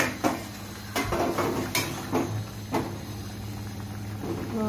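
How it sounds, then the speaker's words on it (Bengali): A metal lid is lifted off a cooking pot where amudi fish curry with potatoes simmers, giving several sharp clanks and scrapes of metal on metal over a low kitchen hum. "এবার আমি ঢাকনাটা তুলে দেখি হয়ে গেছে দেখি"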